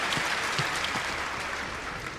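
Applause from the crowd at the 2011 Badminton World Championships fills an indoor arena, a steady patter of many clapping hands with no pauses.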